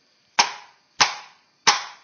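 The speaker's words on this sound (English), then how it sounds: "Take your rubber dead blow hammer, and I like to give her a few whacks right here." Three sharp rubber dead blow hammer strikes land about half a second apart on a Ford 390 cylinder head being seated, each a loud, close thud with a quick decay into silence.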